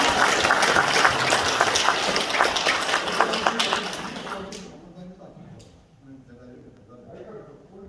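An audience at a citizens' report meeting in Gumi claps in sustained, dense applause for about four seconds. It then fades abruptly to a quieter room with scattered noises.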